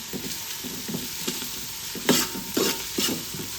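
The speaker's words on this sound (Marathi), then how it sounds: "कांदा हा नेहमी फास्ट फ्लेमवर कुरकुरीतच करून घ्यायचा आहे" Onions frying crisp over a high flame for a mutton masala, a continuous sizzle broken by regular stirring scrapes, with a few louder pulses toward the end.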